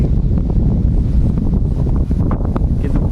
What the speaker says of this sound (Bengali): হাওয়া হচ্ছে দেখুন কি পরিমাণে